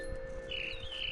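A mama bird calling in the video game What Remains of Edith Finch, one clear chirping tweet over a steady low ambient hum, short and fairly close.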